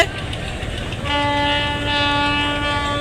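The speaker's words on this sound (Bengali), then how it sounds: "মাস্টার ব্রিজ থেকে হর্নটা হচ্ছে সতর্ক সংকেত" A loud, sustained horn from a passenger launch's bridge blares for about two seconds as a warning signal at Sadarghat, over a low engine rumble, close and steady.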